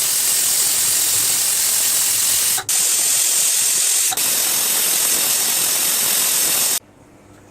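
A pressure cooker on a gas stove cooking arhar palak dal lets out a loud, continuous steam whistle for about seven seconds, briefly catching twice, then cutting off abruptly.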